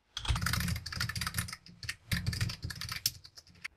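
Fast, dense clattering of a computer keyboard as a command line is entered, near and fairly loud, in two bursts separated by a brief pause, with no one talking.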